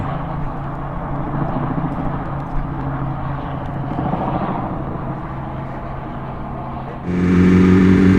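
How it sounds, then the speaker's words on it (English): A steady, rumbling helicopter engine drone with whirring rotor blades, getting noticeably louder and heavier near the end as the helicopter passes closer overhead. "I'm gonna get a video of the chopper."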